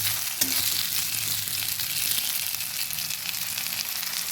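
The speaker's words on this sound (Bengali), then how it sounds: "আলুগুলো প্রায় ভাজা হয়ে গেছে এবার তুলে নেব" Constant loud sizzling of potatoes frying in hot oil, with a brief clink of stirring near the start.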